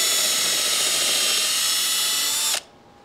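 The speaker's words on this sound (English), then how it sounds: "So I've got my countersink set for the first one" A power drill fitted with a countersink bit bores into wood for a block-plane shooting board, a loud, steady high whine that runs unbroken, then cuts off abruptly near the end into quiet.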